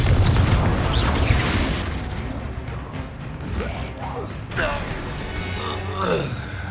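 A Confringo fire spell explodes in Hogwarts Legacy, a heavy booming blast at the start that rumbles and fades, followed by creaks and mechanical clanks, with a voice speaking briefly.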